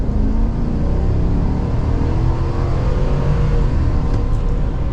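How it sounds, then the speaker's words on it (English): Heard from inside the cab, a 2023 Chevrolet Silverado 1500 ZR2 Bison full-size pickup accelerates on a drive with a loud, steady engine rumble and road roar throughout, no voices. "Honestly, pretty healthy motor. This thing gets up to speed for being a full-size truck."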